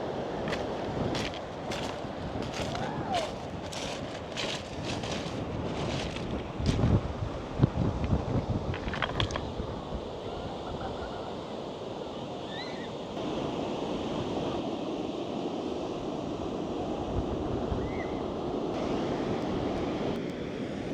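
Strong coastal wind buffets the microphone with constant roaring gusts near Sheep's Head lighthouse, mixed with the wash of waves in the background and occasional sharp knocks.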